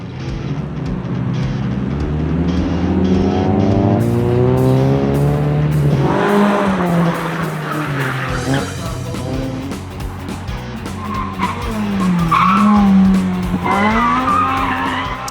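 Race car engines roar and rev as SGC1 and SGC2 class cars, up to 1.6 litres, accelerate past at a street race, with tires squealing and skidding loudly over the constant engine drone.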